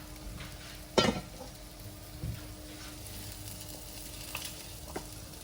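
Green beans and other vegetables sizzling in a pan for a Thai curry, with a steady frying hiss broken by a sharp clatter of a utensil against the pan and a few softer stirring knocks.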